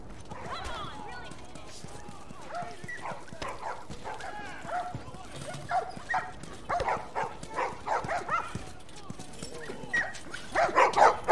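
Dogs barking in the video game The Last of Us, a run of repeated barks growing louder toward the end, mixed with game ambience and voices talking.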